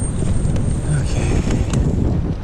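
Outdoor wind buffets the microphone in a steady low rumble with gusty surges, loud and close throughout.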